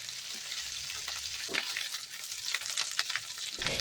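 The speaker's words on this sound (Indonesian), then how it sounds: "Ini kita tumis sampai bawangnya matang." Ground shallots and garlic sauté in oil in a wok, giving a steady, close sizzle and hiss throughout with a few louder crackles and stirring scrapes, and no talking.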